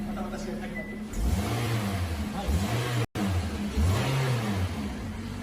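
A 2014 Toyota Isis 1.8 with 109,000 km idles and revs in repeated swells, rising and falling three times at close range, with a voice talking over the engine.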